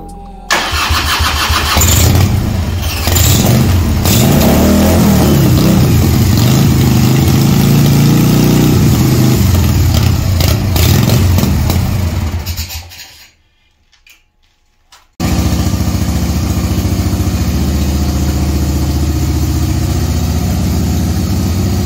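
A 1989 Harley-Davidson motorcycle engine starts and runs at a loud, steady idle for about twelve seconds, drops to near silence, then catches again and keeps idling close by.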